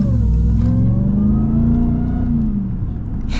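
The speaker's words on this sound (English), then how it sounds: "Can't get tired of that supercharger." A high-mileage Ram TRX pickup with a supercharged engine pulls hard, its deep roar and rising supercharger whine loud and close before easing off near the end.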